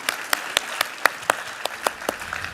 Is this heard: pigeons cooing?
no